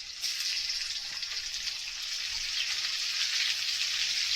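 Potato and red sweet potato sizzle lightly in a hot pan, a steady, close hiss of frying oil that stays even and continuous throughout.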